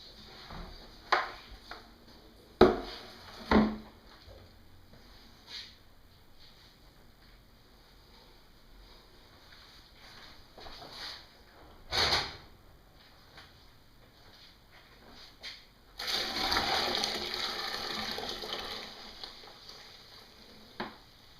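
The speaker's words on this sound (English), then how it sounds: "So we just poured about 170-degree water in there." Hot sparge water at about 168 to 170 degrees is poured onto the mashed grain of an all-grain rye IPA brew. Scattered knocks and clicks give way to a steady, rushing pour lasting several seconds near the end.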